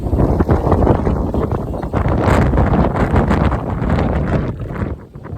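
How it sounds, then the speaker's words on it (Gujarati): Strong gusting wind blowing dust in Rapar, Vagad, Kutch, roaring continuously and loudly into a handheld phone microphone with buffeting rumble throughout. "મારા હાથમાંથી મોબાઈલ આમ છે ને આટલો થઈ જાય એટલો પવન ચાલતો હોય."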